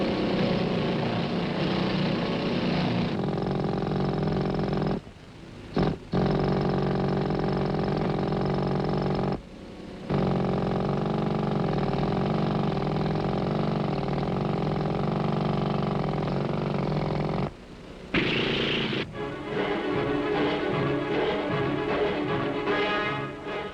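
Pneumatic jackhammers breaking coal in a mine after blasting, a loud continuous mechanical rattling roar that cuts out briefly several times and restarts, heard alone without voices.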